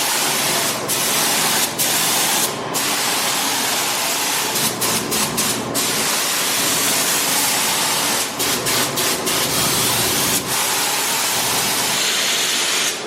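A spray gun applies paint to a car hood in continuous loud hissing bursts, broken by a series of short pauses as the trigger is released and pressed again.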